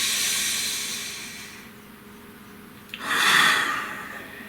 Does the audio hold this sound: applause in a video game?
no